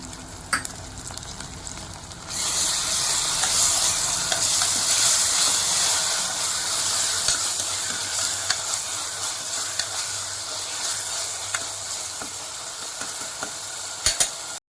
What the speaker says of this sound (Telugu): కొంచెం అల్లం వెల్లుల్లిపాయ పేస్ట్ వేసుకుంటున్నాను